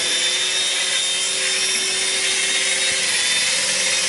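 An AirHogs Jackal RC toy helicopter flies nearby, giving a steady, buzzy high whine from its small rotor motor that holds fairly constant throughout.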